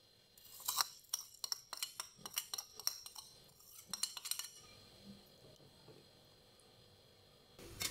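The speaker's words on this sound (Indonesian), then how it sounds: "Diaduk kembali." A spoon clinks and scrapes in rapid, irregular strokes against a pot while coconut milk with palm sugar is stirred, bright metallic taps close up, then fading to quiet with one last clatter.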